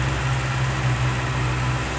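A four-cylinder Honda CB650R motorcycle engine idles steadily with a smooth, low, even hum, close by and unchanging for the whole stretch.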